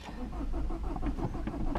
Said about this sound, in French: Si la voiture veut démarrer.